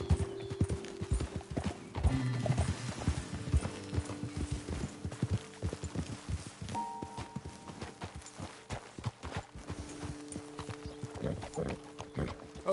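Horse hooves clip-clop at a walking pace in Red Dead Redemption 2, irregular close hoofbeats from more than one horse with a faint snort or whinny, over a low in-game ambience.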